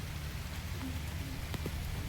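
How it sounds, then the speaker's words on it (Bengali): Light drizzling rain falls outdoors in a continuous, even patter with a soft low rumble beneath, steady and unbroken throughout with no voices. "ঝিরিঝিরি করে বৃষ্টি হচ্ছে।"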